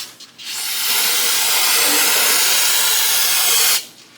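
An aerosol can of brake cleaner sprays onto an engine crankshaft during a piston upgrade, one loud continuous hiss of about three seconds, close to the mic, with no speech.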